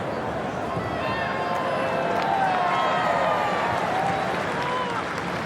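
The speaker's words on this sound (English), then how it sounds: "Mexican ripple goes around the ground" A large stadium crowd of about 21,000 at an Asian Cup semi-final football match in Newcastle sends a rolling Mexican wave around the ground. A dense, steady roar of cheering and clapping fills the air, with faint whistles.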